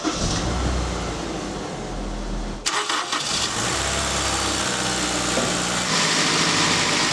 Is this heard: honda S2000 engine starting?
yes